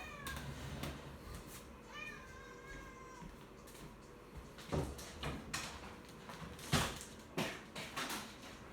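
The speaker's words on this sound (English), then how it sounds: "I'm gonna let this silly cat in my daughter's room so she'll hush." A pet cat meows repeatedly indoors at a house, a rising, wavering cry near the start followed by scattered clattering household knocks and a few louder bumps.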